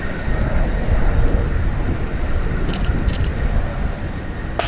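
A Coast Guard helicopter flies near San Francisco International Airport, its engine and rotor making a steady, loud rumbling roar without any break, with no talk.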